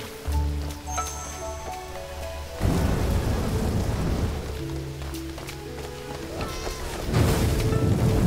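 Rain hisses steadily in a video game, with deep rumbles of thunder swelling in bursts under faint sustained game music tones.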